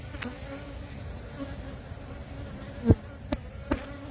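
Honey bees in a hive drone in a steady low buzz throughout, with a few sharp brief clicks or knocks near the end.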